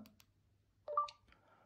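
Pressing the voice assistant button on a SmartVision 3 smartphone for blind users gives a brief, soft electronic chirp with a faint click, alone in a quiet room.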